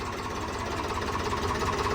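A tractor engine runs steadily nearby with a continuous rough, knocking chug and no voices over it.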